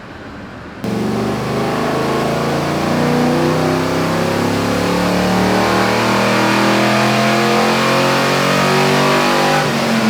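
Car engine during a tuning test run with the mixture still running lean, revving steadily and loudly up through the range after a brief lower idle, close and alone.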